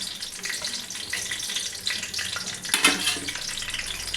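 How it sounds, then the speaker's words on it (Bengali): Water simmers and bubbles in a pot holding cardamom, cinnamon, cloves and cashews for pulao, a steady close sizzling burble with a sharper pop near the end and no speech. "এই দেখুন জল ফুটছে"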